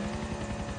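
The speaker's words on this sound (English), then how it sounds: "Do you hear the helicopter?" A helicopter in the GTA 4 game world, a steady low rotor thump and engine drone heard briefly at moderate volume without talk.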